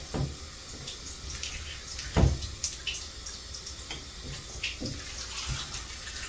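Water running from a newly fitted shower head that leaks at the connection, a steady hiss of spray with a few splashes and knocks, close and moderately loud, no voices.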